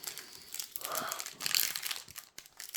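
Foil wrapper of a Pokémon card booster pack crinkles and tears as it is opened, close and fairly loud, in irregular crackling bursts with a sharper rip near the end and no talk.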